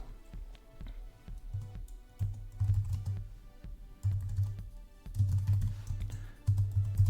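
Typing on a computer keyboard during a Facebook ads tutorial for real estate brokers, quick irregular key clicks arriving in short bursts with pauses between, close and fairly quiet, no voice.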